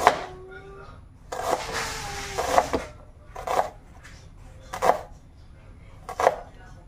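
A knife chops bok choy on a cutting board in a home kitchen: about five or six separate, irregularly spaced chops, fairly close and moderate in volume, over a quiet background.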